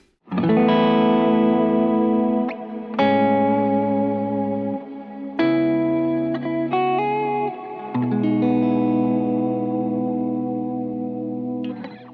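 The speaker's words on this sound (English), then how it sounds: "Then I have a nice ambient reverb." Sustained electric guitar chords bloom into a wide, washy ambient reverb, several long strums each fading into a lingering shimmer.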